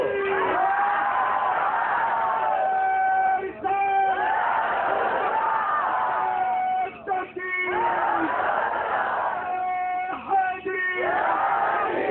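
A large crowd at a religious speech chants slogans in loud, sustained unison shouts, repeating in waves with brief pauses between chants.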